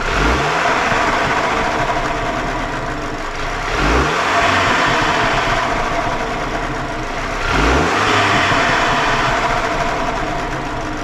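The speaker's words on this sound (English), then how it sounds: "measure the decibels of the stock intake sounds and hear what that sounds like" Stock turbo intake of a Mini Cooper F56 JCW as the engine is revved, loud repeated rises and falls in engine pitch with a whooshing intake roar, three surges across the stretch, no talking.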